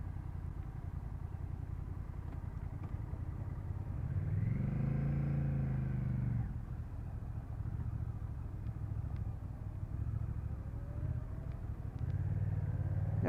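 2024 Honda Rebel 1100 motorcycle ridden through a slow U-turn, a steady low engine rumble with wind, rising in a brief throttle swell midway before easing back to cruising drone.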